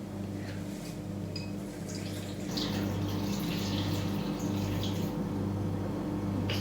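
Water poured into a container while preparing a honey drink, a steady splashing trickle that grows fuller after a few seconds, close and moderately loud with a low hum beneath and no talking.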